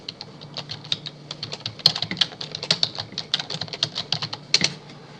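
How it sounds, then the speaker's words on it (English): Rapid typing on a computer keyboard, close and crisp, with irregular bursts of key clicks and brief pauses between runs, no talking. "So I got to type that in."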